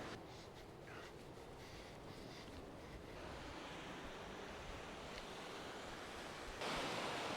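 Ocean waves roll in on the Australian coast as the tide comes in, a steady, faint wash of surf mixed with wind noise and a slight swell near the end.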